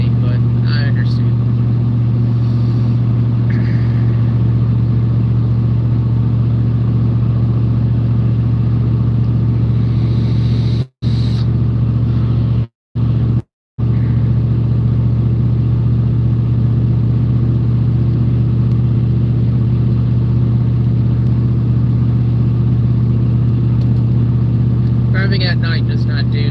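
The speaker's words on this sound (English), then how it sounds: "I hope the road noise isn't too loud." Steady low rumble of tires and engine heard from inside a car driving at night along Kentucky roads, a constant drone with a few brief dropouts, voices talking over it.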